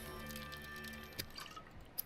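Quiet watery trickle and drips inside a lifepod in Subnautica as a player drinks water, with a faint tonal hum beneath and two small sharp clicks near the end.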